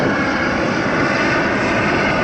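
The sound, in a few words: Los Angeles Sheriff's Department helicopter flying overhead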